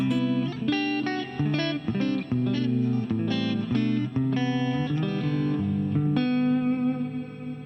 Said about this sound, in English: If you want the whole reverb to go away, come down, -60.